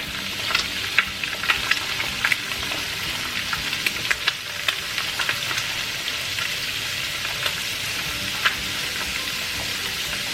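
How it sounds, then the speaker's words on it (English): An egg fries in butter in a hot pan for Mexican huevos rancheros, giving a steady, fairly loud sizzle with scattered sharp pops and crackles throughout and no talking. "We're going to add butter on the outside so it can fry the egg white."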